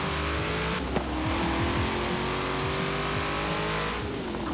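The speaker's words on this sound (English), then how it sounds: "Engine certainly does rev much higher." A stock 2018 Chevrolet Camaro ZL1 in Forza Horizon 4 revs hard, its engine note climbing and falling repeatedly in a loud, steady drone with a brief click near the start.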